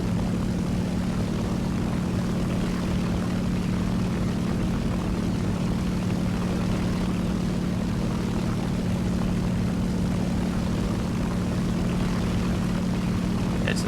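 A propeller aircraft engine in War Thunder drones loud and steady, a constant buzzing hum with no breaks and no talking.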